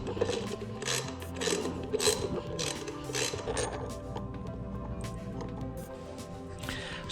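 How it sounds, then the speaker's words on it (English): Bolting one half of a cut bracket to the brake of a stretched 72V QS120 e-bike: steady metallic ratcheting and clicking from a wrench, close and continuous with gear-like mechanical rattles throughout. "Let me bolt this half of the bracket to the brake."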